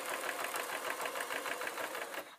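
A domestic sewing machine runs steadily, stitching around the edge of a fabric crayon and colouring pad case with lining tucked in, its rapid rhythmic needle pulses continuous and close before stopping abruptly at the end.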